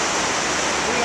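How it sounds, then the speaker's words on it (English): Water of Niagara Falls rushes through the Canadian gorge, a steady broadband roar heard from the rim, constant and loud with no breaks. "Behind me is the Canadian Gorge or whatever for Niagara Falls, and it's flowing down there"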